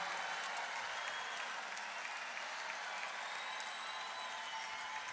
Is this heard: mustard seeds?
no